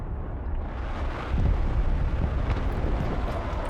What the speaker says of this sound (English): Alright, here comes our airstrike